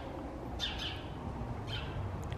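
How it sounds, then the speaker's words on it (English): A wild bird calls twice, short and high, in cold Canadian weather, sounding moderately distant over a constant wind-like background rumble. "What the heck bird is, like, still here in Canada?"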